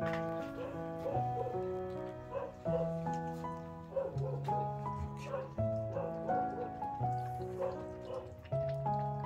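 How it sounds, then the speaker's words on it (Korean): A dog barks outside in short, repeated yips and whimpering barks, fairly faint, over a steady tonal background. "밖에서 효심이가 막 짖는데 누구 왔나?"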